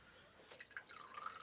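Water dripping from a squeezed item outdoors, a few faint, soft drips and splashes landing close by in quiet surroundings.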